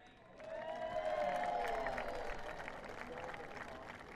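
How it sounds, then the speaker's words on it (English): Spectators at the Isle of Man TT 2025 sidecar race applaud and cheer the podium finishers, a swelling burst of clapping and shouts under a commentator's voice, peaking early then easing off. "Boys getting a big round of applause and a big cheer"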